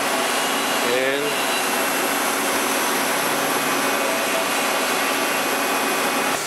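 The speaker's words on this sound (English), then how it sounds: "We hook up a vacuum system and this sucks it down" A CNC machine's vacuum hold-down system runs in a machine shop with a loud, constant roar that holds steady for several seconds, and a voice cuts in briefly near the start.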